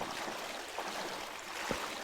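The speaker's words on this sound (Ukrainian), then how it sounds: "Тут плескається водичка, що просто капець" Water splashing down a small waterfall outdoors beside a house, a steady broadband rush with no clear breaks, moderately close and continuous throughout.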